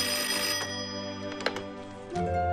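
A telephone ringing down the line while a call connects, a short burst of electronic ring tone heard close and alone, with a slight shift in tone near the end.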